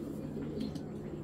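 A pair of racing pigeons, a big-sized cock and a hen, coo in low, steady, throaty tones that run continuously and close by without pause.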